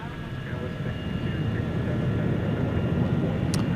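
An Iberia Airbus A330 jet airliner rumbles at DFW Airport at night, a steady low roar that builds gradually and holds from a moderate distance.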